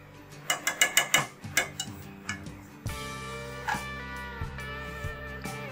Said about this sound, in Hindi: इसे हम विस्क से इसको मिक्स कर देंगे अच्छी तरह से